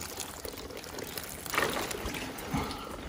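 Water is poured onto freshly planted grasses during volunteer coral-planting work on Maui, a soft, close trickling splash that swells twice over a light hiss, without speech.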